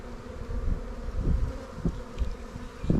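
Honey bees buzz steadily around an open hive frame holding bee bread and pollen, a dense, close, wavering drone with individual bees swelling louder as they pass near, with no talking.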